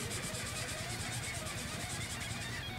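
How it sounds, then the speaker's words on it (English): Prismacolor alcohol marker with a chisel tip coloring in an area on paper, a steady continuous scratchy rubbing that runs evenly and close throughout, fairly quiet. "we're just going to use the chisel dip to color this area in and see if that claim is true"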